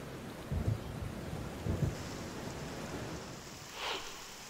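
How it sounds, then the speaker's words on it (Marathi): Heavy morning rain pours over the Kandivali suburbs of Mumbai as a steady broadband hiss, with a couple of low rumbles early on and a brief swell near the end, no voices present. "मुंबईतली उपनगर आणि कांदिवली परिसरात सकाळी 6:30 वाजता कसा मुसळधार पाऊस बरसत होता त्याची ही काही दृश्य"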